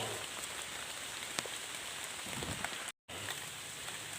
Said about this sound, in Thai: น้องมาเก็บเห็ดตากฝนเด้อครับ